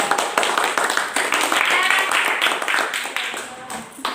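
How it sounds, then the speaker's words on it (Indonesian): A classroom group claps for the first student group after their presentation in an Indonesian teacher-training lesson; brisk uneven clapping, moderately loud, with voices mixed in and a fade toward the end. "tepuk tangan buat kelompok 1"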